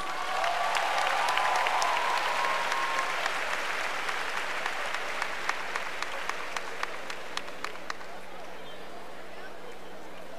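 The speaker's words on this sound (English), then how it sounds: "Keep clapping as she walks to the stage." An audience applauds a scholarship recipient walking to the stage, a dense wash of clapping that starts strong and gradually thins out over about ten seconds, heard at moderate distance in a hall.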